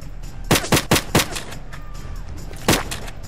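Gunshots fire in the Roblox game PowerUp: four quick sharp shots in a rapid burst, a pause, then one more shot, loud over a low steady game hum.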